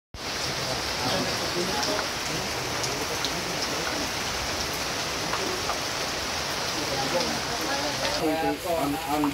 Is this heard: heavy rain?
yes